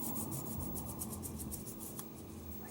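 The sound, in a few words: sandpaper scuffing a Game Boy part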